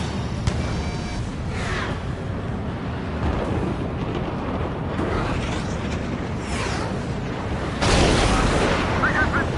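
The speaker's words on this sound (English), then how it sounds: "Trigger's been struck by lightning." A lightning strike and rumbling thunder in a PS4 combat flight game, a dense roaring rumble that swells in waves and ends in a louder crack, mixed with game sound.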